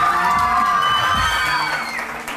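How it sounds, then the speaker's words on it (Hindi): Front-row audience at a weekend studio talk show clapping and cheering, a dense crowd roar with whoops and raised voices, loud and sustained before easing slightly near the end. "सामने वाली रो वाली तालियां हो जाए इनके लिए"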